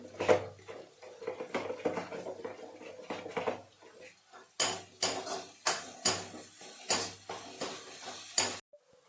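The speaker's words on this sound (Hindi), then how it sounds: "तो इसमें टमाटर और हरी मिर्च ये ग्रेटर कर लूँगी।" Tomatoes and green chillies are rubbed on a kitchen grater in a home kitchen, giving a run of rhythmic, rasping scrapes with metallic clinks, close and fairly loud after some earlier clattering of utensils.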